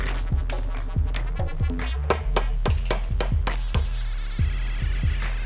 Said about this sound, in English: we're going to hammer out this pin